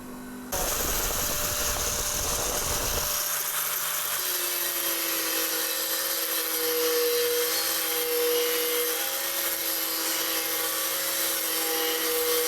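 A grinder works on the chrome fuel tank of an 86-year-old BSA Empire Star, a loud continuous high whine close by that holds steady with slight pitch wavering throughout.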